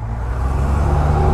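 Car flying past a 2019 Kawasaki Ninja 400 motorcycle on the road, a loud, close, steady low engine and tire rumble with road roar for a brief moment, no talk.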